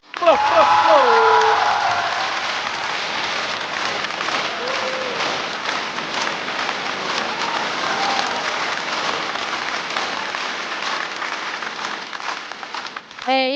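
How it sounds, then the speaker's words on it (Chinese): A stand-up comedy audience applauds loudly and steadily for over ten seconds, dense clapping filling the room, with a brief voice near the start. "掌声欢迎不辣。"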